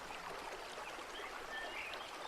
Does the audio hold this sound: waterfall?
yes